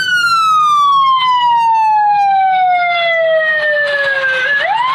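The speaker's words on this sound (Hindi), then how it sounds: "ओ भाई पीछे एम्बुलेंस है यार, जल्दी कर दे, पेशेंट उसमें लेटा हुआ है" Ambulance siren sounding loud and close in traffic, a steady descending wail that sweeps down over several seconds before jumping back up near the end, with road rumble beneath.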